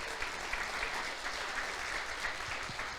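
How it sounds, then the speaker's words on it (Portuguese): A church congregation applauds at a Portuguese-language service, dense steady clapping from many hands filling the room, with no voices over it. "Aplauda o Senhor por isso."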